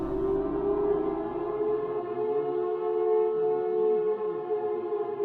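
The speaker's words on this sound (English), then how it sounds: "This loud siren went off" A loud, sustained siren in the zombie survival video game Project Zomboid wails steadily, its tone wavering slightly as it drones on without pause.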